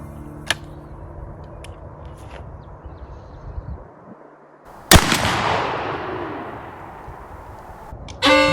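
A 12 gauge shotgun loaded with Remington Nitro turkey shot fires a single loud, sharp blast outdoors that rings out and decays slowly, followed by a brief clatter.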